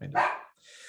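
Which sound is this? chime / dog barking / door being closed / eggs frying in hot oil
dog barking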